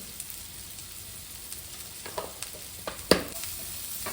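A tomato mixture with salt and turmeric frying in a pan: a faint, continuous sizzle with scattered soft stirring clicks, building to one sharper scrape near the end, close by with no talking.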